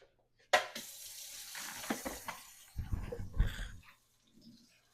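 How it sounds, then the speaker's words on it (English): Water runs from a tap into a sink, splashing softly as hands are rinsed under it, fairly quiet with a few louder splashes. "she goes back to the kitchen sink to wash her hands"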